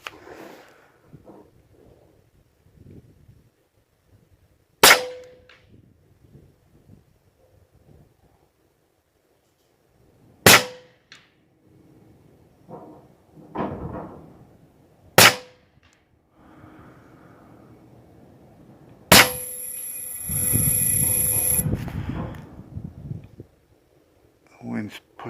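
Pellets from a Huben K air rifle strike a metal target in sharp, ringing clangs, four separate hits several seconds apart, set against wind noise and people talking outdoors.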